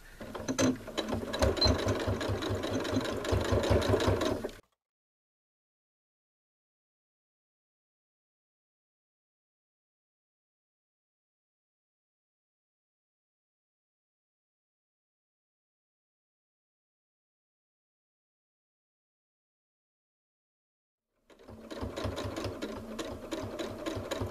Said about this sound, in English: I'm going to make sure to go backwards just to lock my stitch in place too